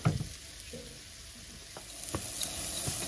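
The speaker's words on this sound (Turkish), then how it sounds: "Şimdi pirincimizi şöyle 2-3 dakika kavurduk." Rice sautés in a hot pan during home cooking in a Hatay village kitchen, with a soft continuous sizzle broken by a few scraping stirs, close and fairly quiet.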